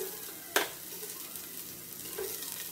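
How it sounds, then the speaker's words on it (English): Onions and lemongrass sautéing in a pan for sinabawan na bangus, a steady soft sizzle with a sharp clack of a utensil near the start and a lighter scrape later, close up. "Saute the lamas, the onions."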